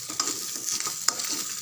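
Small coconut pieces sautéing in a hot pan, a soft continuous sizzle broken by a few light clicks of stirring, brief and close.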